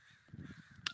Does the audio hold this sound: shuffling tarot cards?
no